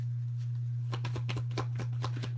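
Playing cards shuffled by hand, a quick burst of crisp riffling flutters over a steady low electrical hum.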